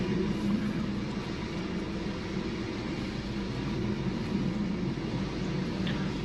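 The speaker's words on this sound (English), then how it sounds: "there's a plane going on and there's an engine running right now" Low steady rumble of a BMW X1 engine idling after a power steering fix, with the broad distant drone of an airplane passing overhead blended into the background, constant and fairly faint.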